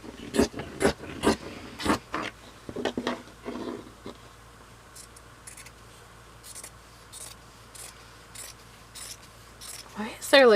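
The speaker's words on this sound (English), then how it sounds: "something wrong with my scissors" Fabric scissors that are not cutting properly make a series of crisp, close snips through stretchy bias tape for a removable collar, in an irregular rhythm with quieter rubbing between the cuts.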